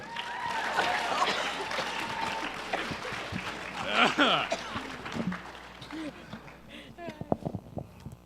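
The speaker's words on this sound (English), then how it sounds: "Give a big round of applause." Audience at an unscripted improv show at Fanime 2014 breaks into applause and laughter, a rolling wash of clapping that builds then thins to scattered claps, with voices talking over it.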